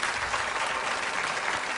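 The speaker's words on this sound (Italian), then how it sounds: "Un applauso agli sponsor," Audience at a Mediterranean festival show applauding the sponsors: steady, even clapping from a crowd throughout, moderately loud and without pauses.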